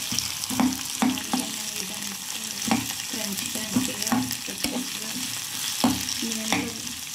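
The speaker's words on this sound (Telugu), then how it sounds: "అది నూనెలో మగ్గాలి." Sliced onions softening in hot oil in a pan for Bombay chutney, with a steady sizzle broken by repeated scraping stirs at irregular intervals, fairly close and with no talking.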